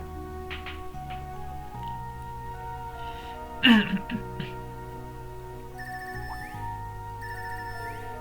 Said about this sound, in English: this ringtone. I haven't heard this before.